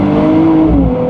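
2024 Nissan Z NISMO engine pulling hard under acceleration, a brief, loud, close rising engine note that climbs steadily in pitch, no voices.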